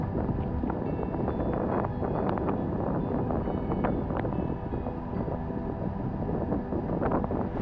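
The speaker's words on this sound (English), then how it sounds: "It's super windy right now." Strong wind buffeting a small action camera's built-in microphone, a loud continuous rumbling roar with gusty thumps throughout and no talking.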